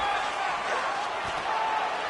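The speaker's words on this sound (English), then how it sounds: "huge pop from the crowd as the fighters get back up to their feet" A crowd at an MMA fight roars loudly and continuously for about two seconds as fighters get back to their feet, a dense wash of many voices with no pause.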